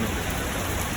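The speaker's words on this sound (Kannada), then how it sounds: "ಮಳೆ ಬೇರೆ ಮಸ್ತಾಗಿ ಬರ್ತೀವಿ" Steady rain falling, heard as a dense, continuous hiss with no breaks, close and even in level throughout, with no voices.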